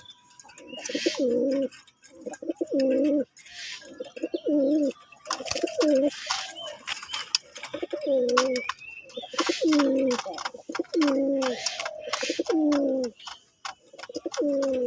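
A male sky-blue pigeon coos repeatedly up close, each low, throaty rolling call lasting about a second and recurring in a steady rhythm with short pauses, with faint background noise and a brief murmur from a person.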